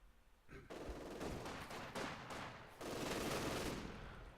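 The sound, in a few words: MG42 and LMG machine gun fire, Company of Heroes 2 video game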